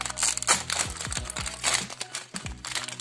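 Crinkling plastic packaging of a LEGO Mario series 2 character figure (set 71386) being torn open and handled up close, with repeated crackling bursts and a few sharper tearing sounds over three seconds.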